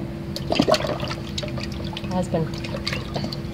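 Water runs and splashes as a salt-stained item is rinsed under a flow, a close irregular pouring and gurgling sound with a voice speaking over it.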